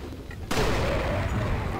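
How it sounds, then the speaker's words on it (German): Dynamite detonating in Resident Evil 4 after being hit by a gunshot, a sudden loud broadband blast that erupts and rolls on as sustained rumbling, with faint game sounds before it. "Durch Zufall wirklich genau das Dynamit getroffen"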